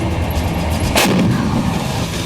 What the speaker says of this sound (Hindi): गन जो है इनडायरेक्ट फायर करती है।